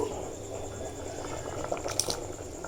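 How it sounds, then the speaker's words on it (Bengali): Khichuri with jackfruit seeds bubbling in a pot, a steady soft burble of boiling with faint kitchen background, close and quiet, no talking. "টকবক করে ফোটা শুরু হয়ে গেছে"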